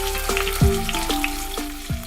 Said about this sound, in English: transfer this from the frying pan and we'll be using the same oil to cook rest of our gravy